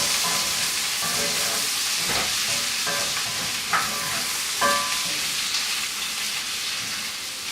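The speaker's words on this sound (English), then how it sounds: "saute until the mushrooms are soft and slightly browned and the onions have caramelized" Mushrooms and onions sautéing in a pan, a loud continuous sizzle with periodic scraping strokes of a spoon or spatula stirring through them.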